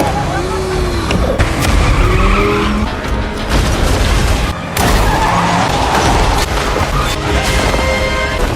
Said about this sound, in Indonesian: dengan Miranda yang datang menyelamatkan Six menggunakan mobil pelarian anti peluru milik si mantan wakil